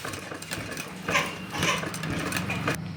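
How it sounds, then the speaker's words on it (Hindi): A sewing machine stitches baby summer shorts just below an existing seam, a steady mechanical whir running continuously close by, with a few slight swells in loudness and no talk. "मशीन के एक पैर के हिसाब से इस सिलाई के जस्ट नीचे हमें सिलाई लगानी है"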